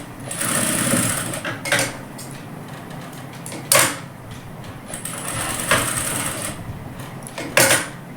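A sewing machine stitches trouser pocket seams, a loud close mechanical whirr running in several bursts with louder clunks between runs as the fabric is repositioned.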